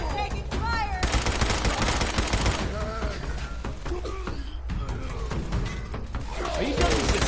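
Gunfire in Fallout 76, with dense rapid shots and bursts running nearly continuously at close range, while a voice speaks at moments over the shooting.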